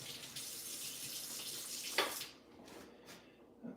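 Hot water runs from a kitchen tap in a steady close stream, then cuts off, leaving a few faint drips and a quiet room.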